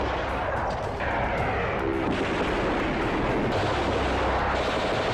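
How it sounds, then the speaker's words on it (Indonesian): Dense gunfire and bombing effects from an Allied raid on a Japanese prison camp, with continuous loud rumbling blasts and crackling shots layered under a faint narrating voice. "Desingan peluru berlarian di antara kobaran api akibat pengeboman oleh"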